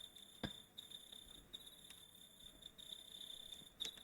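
Crickets chirping in a quiet background, a thin steady trill repeating over four seconds with no talking.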